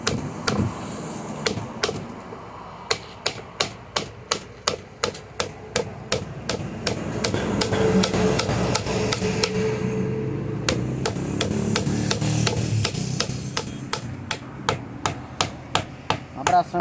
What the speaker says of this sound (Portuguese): batendo, não vai quebrar seu formão